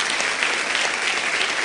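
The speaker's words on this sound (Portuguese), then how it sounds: "Palmas para Jesus, para Jesus." Church congregation applauding during an evening service, a short burst of steady, full clapping from many hands.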